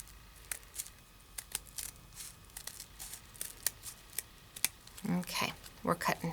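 Scissors cutting a piece of paper in half for a scrapbooking craft, a close series of sharp snips and crinkles, followed by soft paper handling.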